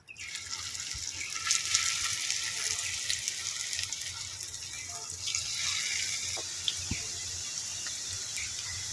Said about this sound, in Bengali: তো সেম প্রসেসে আমি আবার এগুলো ভেজে নেব।